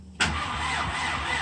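A Porsche 944 with a 1.8t engine cranks and catches, firing abruptly into a steady, close idle that holds to the end.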